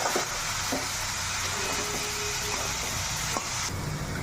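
Bottle gourd pieces sizzling in a pan as they are stir-fried with salt over a gas flame, a steady close frying hiss broken by occasional scrapes and clicks of the spatula.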